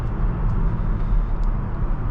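A cold 2022 Audi S4 Premium Plus engine and exhaust rumbling low and steady inside a garage, the drone echoing off the ceiling, continuous and fairly loud with no voices.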